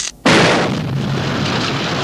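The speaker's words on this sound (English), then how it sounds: "the ants interrupt the snooze fest by blowing up the generator in the truck" A film explosion as a truck's generator is blown up: a sudden loud blast bursts in after a quarter second, followed by a dense roaring, crackling rumble that fades slowly.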